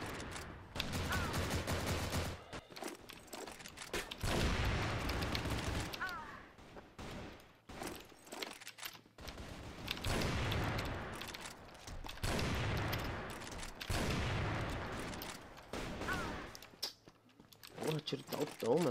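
Rapid bursts of video game gunfire crackle in loud repeated volleys separated by brief pauses, with a voice occasionally under the shooting.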